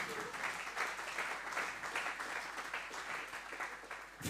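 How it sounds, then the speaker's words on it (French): Quiet audience applause for a speaker at an agroecology and viticulture day event, a steady distant wash of many hands clapping that swells slightly near the end. "vous pouvez l'applaudir évidemment."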